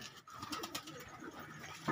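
Paired pigeons near a rooftop give soft, low cooing calls, faint and somewhat distant against quiet background noise.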